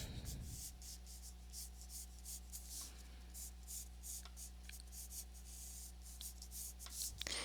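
A pencil sketching on paper, soft scratchy strokes in uneven bursts of short and longer lines, close and quiet over a low steady hum.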